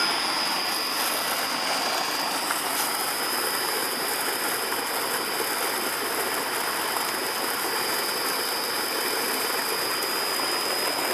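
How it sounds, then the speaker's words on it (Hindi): A 15 HP three-phase monoblock motor powering a solar tube well runs continuously, giving a steady broadband rushing hum with a thin high whine, like flowing water and motor noise together. "देख मोटर चल रही है"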